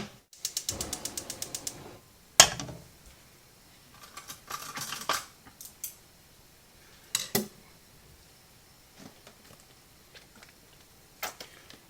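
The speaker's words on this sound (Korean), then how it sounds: "마지막으로 청양고추 넣습니다. 그럼 한번 볶아 보겠습니다." Cheongyang chili peppers being stir-fried in a pan, with repeated metallic scraping and clattering of a utensil against the pan in short bursts, close by and fairly quiet, with no one talking.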